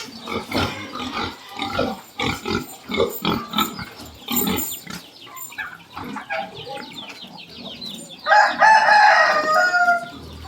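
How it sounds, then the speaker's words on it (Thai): Fighting cocks and other chickens crow and cluck loudly at a small farm that also keeps pigs. Overlapping calls come in bursts, with one strong crow rising near the end. "ไก่เยอะอยู่นะครับ"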